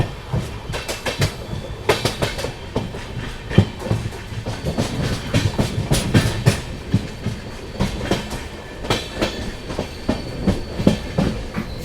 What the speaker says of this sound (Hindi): पापुंड रेलवे स्टेशन से ट्रेन निकल गई है